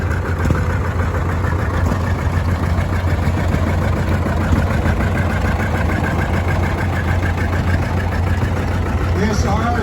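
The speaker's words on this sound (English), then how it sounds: "This tractor is a 90 cockshut." A Cockshutt 90 tractor engine runs at a steady, close idle, a deep, even rumble that holds unbroken for the full stretch without revving up or down.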